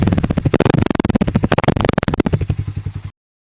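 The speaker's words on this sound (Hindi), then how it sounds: "वहीं इस 440X का साउंड कुछ सुनने को ऐसा लगता है।" A Harley-Davidson X440 motorcycle engine revs in rapid pulsing bursts, loud and close, with a rough mechanical clatter before cutting off abruptly near the end.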